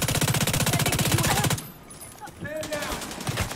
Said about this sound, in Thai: เดี๋ยวผมยิงข้างบน